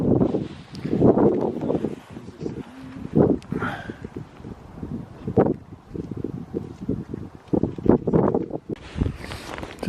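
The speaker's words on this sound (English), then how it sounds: "I hope this sounds alright with the blooming winds picked up again" Wind gusting across an exposed hilltop, buffeting the microphone in loud, uneven rumbling bursts that rise and fall throughout.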